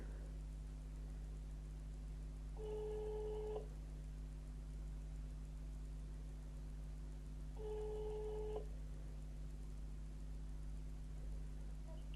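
A phone ringback tone sounds twice at a steady interval, faint and even, each ring lasting about a second over a constant background hiss.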